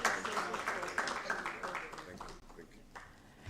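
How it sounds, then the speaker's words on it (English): Dense applause from a festival session audience at UNISA, honouring a speaker; steady, busy clapping fills most of the stretch and thins out toward the end. "A round of applause for Dr. Lebu, ladies and gentlemen"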